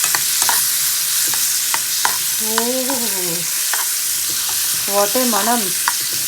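Chopped mango sautéing in ghee for mango unniappam, a steady close sizzle with sharp clicks of a spoon stirring the pan, while a voice briefly speaks over it twice.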